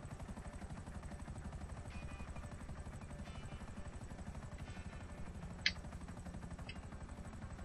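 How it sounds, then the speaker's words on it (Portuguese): An Akula helicopter in the video game GTA V flies with a steady, fast rotor chop throughout, a low pulsing thrum with a couple of brief sharp clicks on top and no talking. "Muito show este helicóptero aqui."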